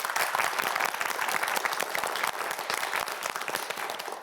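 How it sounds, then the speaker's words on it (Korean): Studio audience at a televised quiz show claps in dense, steady applause that holds at an even level for about four seconds with no talk over it. "자, 화이팅 박수 한번 보내주세요."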